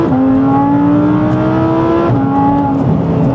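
An Audi R8 engine revs hard under full acceleration, its loud, sustained note climbing steadily in pitch, dropping briefly at a gear change, then rising again, with no talk.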